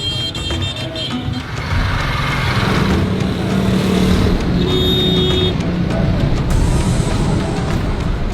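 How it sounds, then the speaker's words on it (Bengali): Heavy traffic crowds a narrow Lahore street, with loud, constant engine rumble from cars and motorcycles passing close and occasional horn tones rising above the din. "আর মাঝখানে চলছে অবিশ্বাস্য পরিমাণে যানজট"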